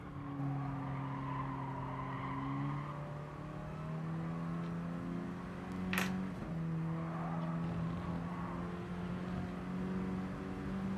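Mini Cooper Cup race cars lapping a circuit through a chicane, with steady engine drone and shifting pitch as the cars run close together, plus a brief sharp crack partway through.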